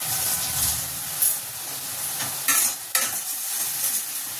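Nigella seeds tempering in hot oil for a fish curry, a loud close sizzle and steamy hiss with a few sharp spatters and stirring scrapes, with no talking.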